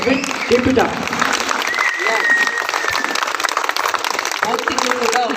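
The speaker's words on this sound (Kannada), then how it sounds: "ಇಂಥ ಅದ್ಭುತ ಗಾಯಕನಿಗೆ ಈ ಚಪ್ಪಾಳೆ ಖಂಡಿತ ಕಮ್ಮಿ" An audience applauding a young singer at a stage show, a dense sustained clapping from a crowd, with someone talking loudly over it throughout.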